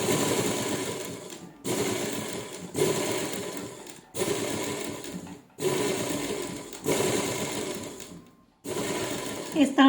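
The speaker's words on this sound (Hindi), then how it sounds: "इस तरह से पूरे गले में सिलाई लगा लेंगे।" A sewing machine stitches close around a round neckline over buckram, running in seven steady bursts of about a second each with brief pauses between them, close and fairly quiet.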